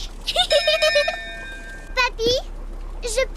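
A ship's bell rung aboard a boat in a Peppa Pig cartoon, several quick bright metallic rings with a lingering tone, then brief children's voices speaking between further faint chimes.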